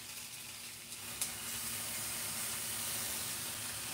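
Chicken sears in a cast iron pan with a continuous soft sizzle and steamy hiss, fairly quiet and even throughout, with one small sharp pop early on.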